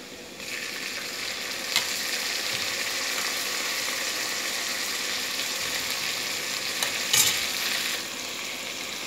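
Tomatoes hit a pan of fried onions and asafoetida and sizzle continuously up close, with a couple of brief scraping clatters from stirring; no voices are heard.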